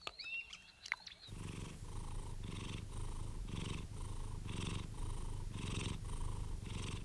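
A resting female cat purrs close up in a steady, rhythmic rumble of repeated pulses, each breath cycle clearly separated, after a brief faint chirping at the start.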